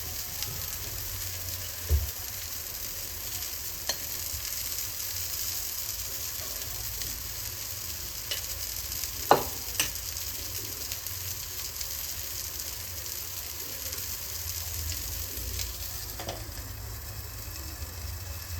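Fish fries on a tava pan, giving a steady, faint, even sizzle with a few sharp pops and clicks scattered through it.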